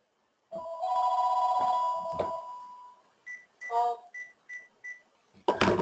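A telephone rings first with a sustained electronic tone, then gives a series of short chirping beeps, loud and close, with a burst of noise at the end.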